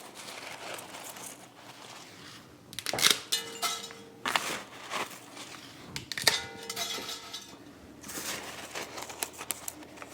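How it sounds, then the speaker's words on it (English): Dry spaghetti is snapped in half and dropped into a pot for a one-pot spaghetti dish, producing several bursts of sharp cracking and brittle clattering against the pot, with quieter pauses between them. "So I'm just going to break it in half and put it on the bottom."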